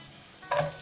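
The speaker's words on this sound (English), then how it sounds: "then add chopped onion and chopped capsicum" Chopped onion and capsicum hit a pan of sizzling garlic with a brief burst of frying hiss and a stirring scrape, short and moderately quiet, no talking.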